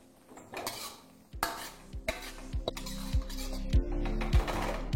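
Spatula stirring fried eggs into chilli egg sauce in a pan, repeated metallic scrapes and clanks against the pan over a steady sizzle.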